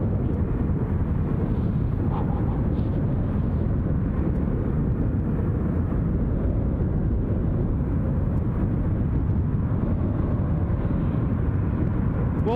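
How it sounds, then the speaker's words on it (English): A jet on the move at Glasgow International Airport produces a steady, broad roar that fills the whole stretch, constant and fairly distant with no clear rise or fall. "somebody's jet is on the move because I can hear it"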